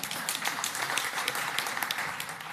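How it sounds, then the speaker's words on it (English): An audience at a business festival breaks into a round of applause in the middle of an on-stage talk, a brisk, even patter of many hands clapping at moderate volume with no voices over it. "that's possibly the first round of applause we've had in an event rather than at the end of it"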